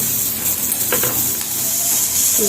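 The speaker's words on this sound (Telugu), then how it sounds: "అరచిప్ప కొబ్బరి మంచిగా వాష్ చేసి కట్ చేసినటువంటి ముక్కలు, ఇవి కూడా కొద్దిగా వేగాలి" Pieces of fresh coconut frying and being stirred in a pan while a millet dosa meal with potato curry and coconut chutney is cooked, giving a steady close sizzle with a few scraping clinks and no talk.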